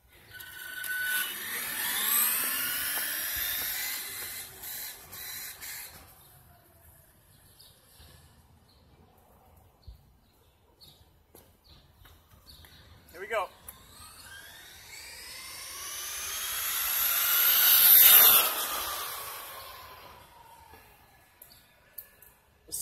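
A Traxxas E-Maxx Brushless Edition RC truck on a 6S battery makes a warm-up speed pass. The motor whine rises and falls as it goes by, fades, then a second louder high-pitched sweep passes close and trails off.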